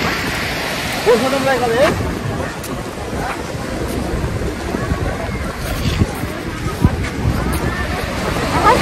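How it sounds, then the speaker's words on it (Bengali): Sea waves and wind on Digha beach make a steady, loud broadband roar with gusts buffeting the microphone, and faint voices surface now and then. "আর এত সুন্দর ঢেউ আর হাওয়া, জাস্ট ওয়াও।"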